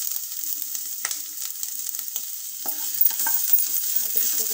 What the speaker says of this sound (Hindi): जीरे को भून लेंगे।